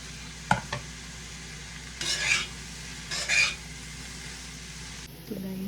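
Prawns and chopped vegetables going into a pan, with a couple of soft scraping stirs and a low, steady sizzle under a faint background hum; a brief clatter of utensils near the end.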